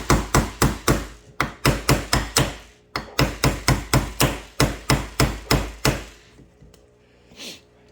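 A Greenever multi tool axe with a hammer head drives a nail, landing about two dozen sharp, loud strikes in quick bursts, with a brief pause partway through and quiet at the end.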